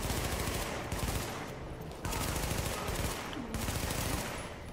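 Gunfire is aimed at the player in The Division, heard as steady bursts of rapid automatic shots in three long volleys with brief gaps between them, moderately loud and continuous.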